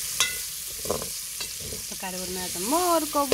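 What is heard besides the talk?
onion frying in a pan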